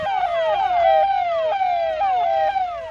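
Forest department vehicles sound a loud, continuous electronic siren at dusk in Nevada village near Bahraich, its pitch repeatedly sweeping up and down in a steady cycling wail close by.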